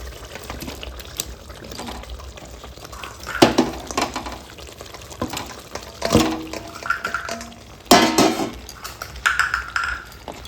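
Fried meat tipped into a pan of cooked-down spiced masala, giving a few loud sizzling, clattering bursts with quieter rustling and scraping between them.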